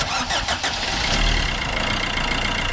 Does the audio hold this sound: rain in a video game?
no